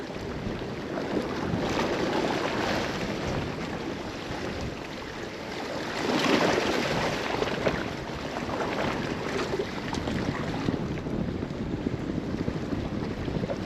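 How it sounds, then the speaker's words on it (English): Strong wind blows across a boat on a lagoon, a loud, unbroken roar that buffets close to the microphone and swells into a heavier gust about halfway through. "Woo, this wind!"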